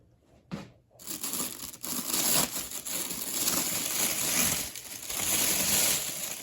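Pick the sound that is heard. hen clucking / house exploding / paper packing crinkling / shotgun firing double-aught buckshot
paper packing crinkling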